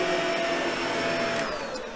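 A Shark Pet Pro ZU561 vacuum cleaner runs steadily with a whining motor tone and airy rush, close and continuous, the pitch shifting slightly as it is pushed.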